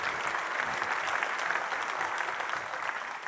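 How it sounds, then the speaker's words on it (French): Audience at a festival closing ceremony applauding loudly, a dense and continuous crowd clapping that holds steady throughout and dips only slightly at the very end. "vous pouvez les applaudir bien fort."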